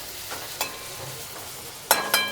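Ingredients stirred and sautéed in a pan for a Maharashtrian home dinner of varan bhaat and cluster beans, a faint continuous sizzle broken by a few sharp scraping clinks of a spoon against the pan, with no talk.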